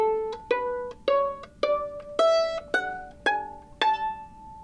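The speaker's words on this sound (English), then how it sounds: "One is called pizzicato, and that's where you pluck the strings like this" Violin strings plucked pizzicato, a sequence of about nine bright, short notes stepping upward in pitch, each with a quick attack and brief ringing decay, close and clear with no talk.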